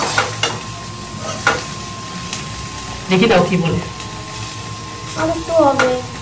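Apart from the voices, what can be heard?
okra (bhindi) frying and being stirred in a pan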